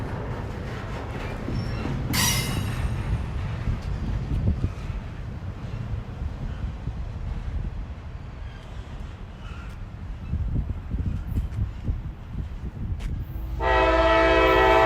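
A train rumbles past outdoors with wind buffeting the microphone; a brief horn sounds early, and a loud steady horn blast closes the passage.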